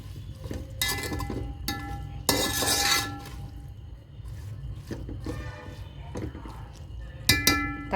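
Tomatoes stirred in a pan with a metal spoon for chicken biryani, giving repeated scraping and clinking bursts against the pan over a steady low hum, loud and close, with no talking.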